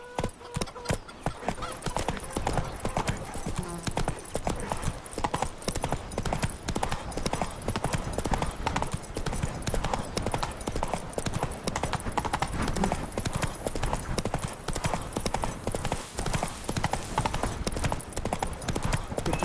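A horse gallops in The Witcher 3: Blood and Wine on PS5, its hooves clip-clopping in a fast, steady rhythm throughout, loud and close, with a brief whinny possible and faint game voices underneath.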